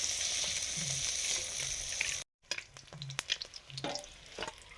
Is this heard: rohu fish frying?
yes